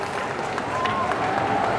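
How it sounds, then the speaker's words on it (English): A convention panel audience at a comic con applauds and cheers in a brief, steady wash of clapping with crowd noise. "Great applause for Gaten Matarazzo!"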